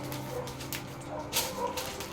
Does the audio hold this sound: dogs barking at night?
yes